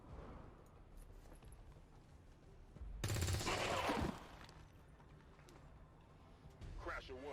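Soldiers' gunfire in the video game XCOM 2 erupts as a single loud burst lasting about a second, set against quieter game ambience, with a voice talking elsewhere in the clip.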